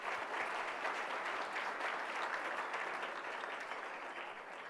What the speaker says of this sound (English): with a round of applause, if you would all join me for that ongoing support